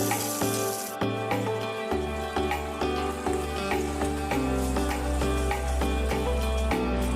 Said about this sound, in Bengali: তারপরে টমেটো, ক্যাপসিকাম আর কারি পাতা তেলের উপরে দিয়ে দিলাম।